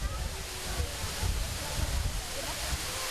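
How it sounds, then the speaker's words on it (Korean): A grand waterfall roars in a steady broad wash of falling water, continuous and fairly distant, with a voice speaking over it. "마침내 그들 앞에 웅대한 폭포가 나타났습니다."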